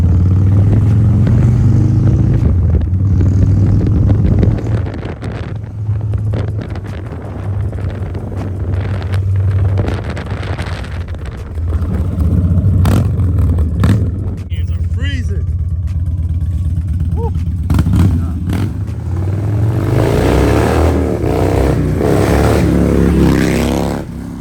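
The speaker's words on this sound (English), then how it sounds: "we're gonna take Lefty's bike out for a ride because for some reason it wasn't switching into gears" A motorcycle ride in cold weather, with engine drone and revving under heavy buffeting wind noise, loud and close throughout, with a few brief voices mixed in.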